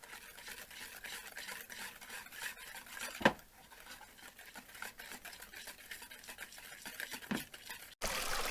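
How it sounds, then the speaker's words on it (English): Sugar being whisked into eggs in a bowl for a caramel pecan pie: quiet, rapid scraping and swishing strokes with a couple of sharper taps against the bowl, faint and without speech. "Going to stir that in or whisk that in until all the sugar is dissolved into the eggs."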